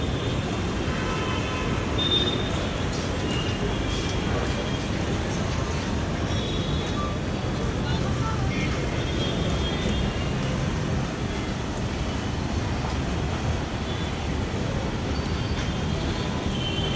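A train at K R Puram railway station in Bengaluru, heard as a steady, loud, broadband rumble and rush that holds evenly throughout with no voices.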